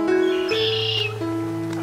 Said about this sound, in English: Listen to them birds.